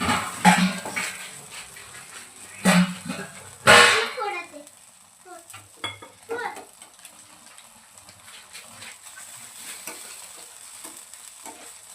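Chicken seekh kababs fry in butter on a low gas flame, a soft steady sizzle under a few loud metallic clanks and scrapes of a utensil against the pan early on, with sparse clinks afterward.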